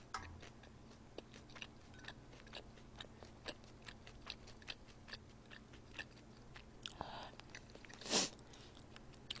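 Soft, close chewing of Japanese katsuo udon noodles during a Korean eating show, heard as quiet rhythmic bites and slurps with one brief louder burst near the end, no talking.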